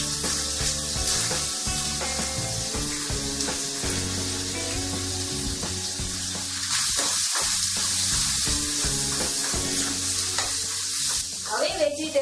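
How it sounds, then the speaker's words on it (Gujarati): Vegetables for Hakka noodles stir-fried in a hot pan over high heat, a steady close sizzle with constant scraping and tossing of the spatula throughout. "હવે વેજીટેબલ્સને આ રીતે ટોસ્ટ કરતા સાતળીશું."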